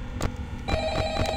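A telephone ringing inside the horror video game Five Nights at Freddy's, two or three distinct electronic rings with a sustained tone, fairly clear and close with no talk over it.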